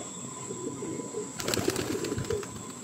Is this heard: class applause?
no